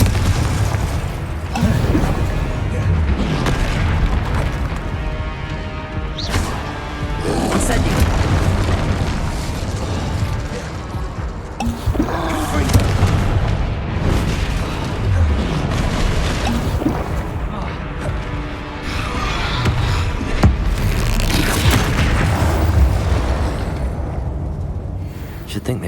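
Booming fiery blasts from the Confringo explosive spell in the game Hogwarts Legacy, several heavy rumbling bursts rolling over one another amid dense crashing effects and continuous game noise.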